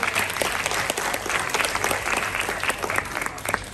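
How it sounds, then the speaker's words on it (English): Audience at an elementary school Christmas assembly applauds after a Grinch performance and a grade 1 dance; steady, dense clapping fills the whole stretch at moderate loudness, with no voices over it. "Applause."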